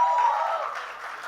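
Applause from the audience at a trailer launch event, a short burst of dense, steady clapping that fades slightly over about a second.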